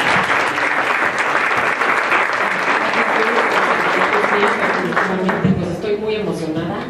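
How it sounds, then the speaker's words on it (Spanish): A large audience applauds, a dense, loud sustained wash of clapping that fills the whole stretch, with a voice beginning to speak over it near the end. "Un aplauso, por favor."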